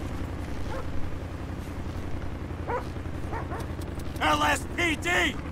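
Police dog in GTA V with the LSPDFR mod gives a few short barks and yips, loudest near the end, over a steady background of game noise and radio-like chatter.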